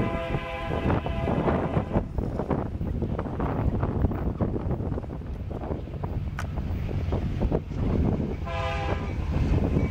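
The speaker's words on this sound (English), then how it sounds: "Westbound grain train approaching Pierce." Westbound grain train led by CEFX and NS locomotives approaching, with a steady loud rumble of engines and rolling cars, a brief horn-like tone, and wind buffeting the microphone throughout.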